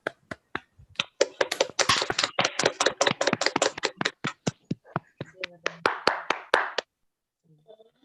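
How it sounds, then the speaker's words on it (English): Participants on an online award-ceremony call clap together after unmuting, a ragged, uneven patter of separate hand claps arriving through several microphones, fading out near the end, with brief voices in places. "Can we all unmute and then clap together?"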